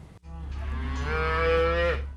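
One long, loud moo from cattle at the La Junta Livestock Commission auction, close by and rising before it trails off, with no voices over it.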